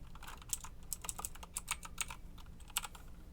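Rapid, uneven one-handed typing on a computer keyboard while entering HTML and CSS code, a steady run of crisp, close key clicks with brief pauses and no talking.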